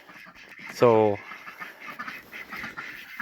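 Runner ducks give a single loud, close quack burst lasting about half a second, then quieter farmyard background follows; a person speaks a word just before it.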